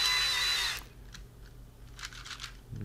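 A power drill whirs briefly into the body of an Arduino autonomous vehicle in a tight space, a short loud burst followed by faint crunching and scraping as the bit stops.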